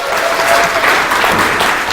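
Audience applause during a company lecture, a loud, dense wash of many hands clapping continuously from start to finish.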